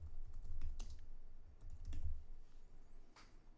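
Keyboard typing as account information is entered on a computer, a few quick bursts of soft, close clicks with short pauses between them, quiet and with no voices.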